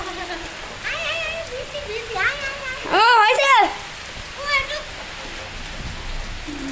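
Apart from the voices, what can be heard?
rain falling outdoors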